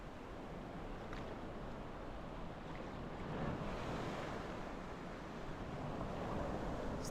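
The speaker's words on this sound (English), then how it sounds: "Enjoy this beautiful view of the sea and the waves crashing against the rocks" Sea waves crash against rocks along the shore near Ayia Napa on a windy day, a continuous wash of surf swelling and breaking, moderately distant and unbroken by speech.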